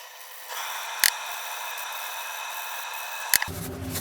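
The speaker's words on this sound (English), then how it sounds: "You don't need to see me sanding." Sanding on the top of a repurposed tire repair tool produces a steady, close hissing scrape lasting several seconds, broken by two sharp clicks, before it stops and a low hum takes over.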